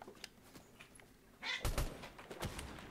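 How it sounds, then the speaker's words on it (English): Two house cats fight indoors, giving faint, brief yowls and a scuffle of thumps under quiet game sounds. "Oh, now my cats are fighting."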